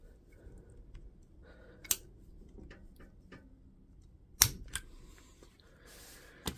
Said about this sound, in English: we need to get a sharp screwdriver and pop off these 2 spot welds at the end